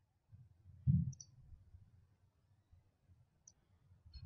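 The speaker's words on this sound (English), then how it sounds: "So once you're done, you may click Save." A single soft computer mouse click on a Save button lands near the start, then faint low room hum follows with a couple of tiny ticks.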